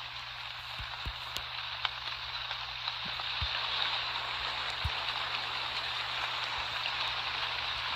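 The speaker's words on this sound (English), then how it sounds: "it said watch out for rain" Steady rain falls in The Dark Pursuer video game, a continuous broadband wash of droplets with a few brief ticks and low thumps scattered through, moderately loud and without talk.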